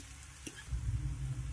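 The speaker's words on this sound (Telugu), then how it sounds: "ఒక 2-3 నిమిషాలు మంచిగా ఉల్లిగడ్డలు వేయించుకోవాలి" Onions fry in a pan with a faint, steady low sizzle and a brief soft clink, close but quiet.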